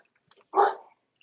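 A single short dog bark from a household dog, sharp and fairly close, then quiet.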